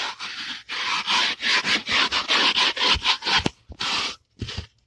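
Brush scrubbing the worn carpet of a Chevrolet Impala after a spray of Turtle Wax cleaner: loud, close, rhythmic back-and-forth strokes in quick bursts, with short pauses between and a few final scrubs at the end.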